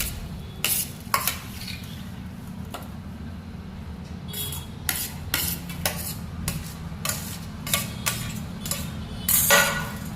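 A spoon stirs a mixture of ingredients in a bowl for a Gujarati onion and raw mango chhundo. The scraping and clinking taps come in irregular bursts over a steady low hum, with no talk.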